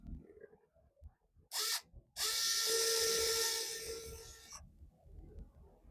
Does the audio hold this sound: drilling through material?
yes